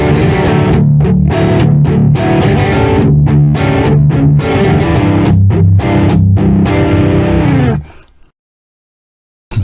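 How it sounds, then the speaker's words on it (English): An electric guitar runs through a Zoom G1 Four multi-effects pedal with a heavily processed distortion, playing a loud, dense chugging riff that stops abruptly into silence near the end. "Super processed distortion"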